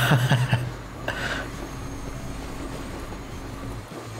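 TGV high-speed train in the Transport Fever 2 video game, heard as a steady rolling rail rumble, with a few clanking beats at the start.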